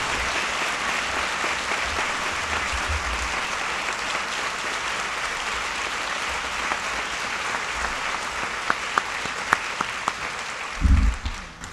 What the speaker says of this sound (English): Please recognize our sponsors with a very appropriate round of applause for making today possible.